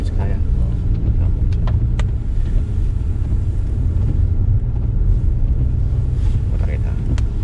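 Car driving on a highway at night, a loud continuous engine and road rumble with wind noise, steady throughout.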